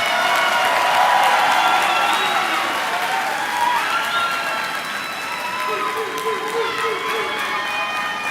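A high school graduation audience applauds and cheers, with loud clapping mixed with whoops and shouts that ease slightly before continuing.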